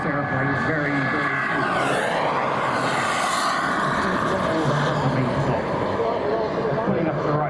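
Two CARF Models MiG-17 Cold War jet models flying a duo display at Weston Park, a loud continuous turbine roar that swells as the jets pass overhead, with a sweeping pitch shift.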